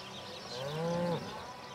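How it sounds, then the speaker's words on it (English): A cow moos once in the video game Atomic Heart, a single drawn-out, close, fairly loud low call of about half a second, with no talk over it. "You're a crazy cow."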